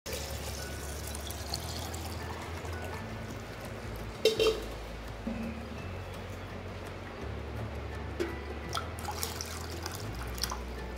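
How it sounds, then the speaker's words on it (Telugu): Water pours into a pot being readied for the Bonalu festival offering in Telangana, a soft steady trickle with a few drips and small clinks, moderately quiet and without talk. "వాటర్ పోస్తుంది."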